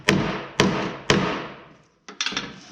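Small ball peen hammer tapping while an aftermarket tractor seat is fitted: three sharp, evenly spaced metallic strikes ring out and decay, followed by a quicker cluster of lighter taps.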